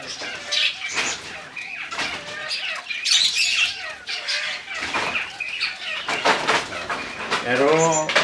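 Chukar partridges fight inside a farm cage, giving loud harsh squawks and calls over bursts of flapping wings, close and agitated, with a voice talking over the commotion.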